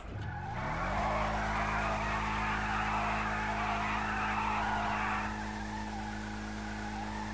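A Bravado Gauntlet Classic muscle car in GTA V slides into a drift. A loud, sustained tire screech rides over the steady engine drone for several seconds, then fades, leaving the engine running alone.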